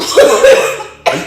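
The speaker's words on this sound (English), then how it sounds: "Why are you coughing?" A person coughs twice, a burst of harsh coughs followed by a short gap and then one more sharp cough, loud and close with nobody talking over it.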